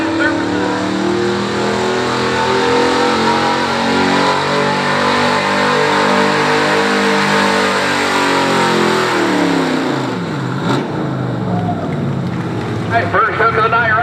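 A Chevy Silverado pulling truck revs hard at an Ohio truck and tractor pull, its loud engine roar climbing steadily in pitch, close by, with an announcer's voice over the PA.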